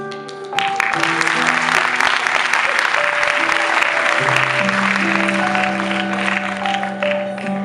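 A large audience applauds at a sports, arts and culture awards ceremony, a dense, steady wash of clapping that holds loud and even for several seconds, with sustained musical tones running underneath.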